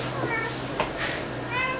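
A small female cat meows indoors, a few short close meows in quick succession over faint room noise, without spoken words over them.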